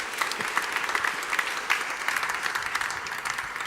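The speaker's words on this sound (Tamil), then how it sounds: "அப்போ ஒரு பலத்தை கைத்தட்டு கொடுங்க உங்களுக்காக" A church congregation at a Christmas Vigil service claps as a dense, continuous round of applause that stays at an even level throughout.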